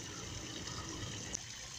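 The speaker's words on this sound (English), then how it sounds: "that's the washing machine water" Washing machine drain water gushing out steadily outdoors beside a container garden, a continuous close, broadband rush of flowing liquid with a brief splash near the end.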